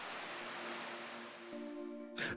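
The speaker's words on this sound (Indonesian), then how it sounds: "Air yang jatuh deras dari tebing kokoh ini" Curug Omas, a 30-metre waterfall in Taman Hutan Raya Djuanda, Bandung, pours down a rocky cliff in a steady broadband roar, with a low hum running underneath and a brief brighter burst near the end.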